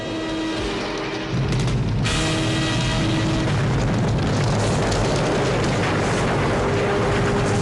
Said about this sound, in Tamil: எரிமலை வெடிச்சிருச்சு.